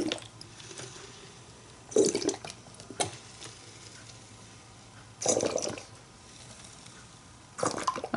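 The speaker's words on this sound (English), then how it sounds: "And we're going to fill it up with water." Water is poured into a container being filled to make homemade brush cleaner, heard as short splashing bursts separated by quiet gaps, close by with no talk.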